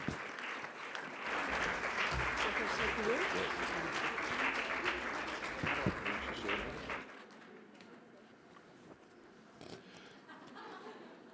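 A standing audience applauds the New South Wales Minister at a Women's Week celebration, dense clapping swelling for about seven seconds before it cuts to quieter room noise with scattered voices.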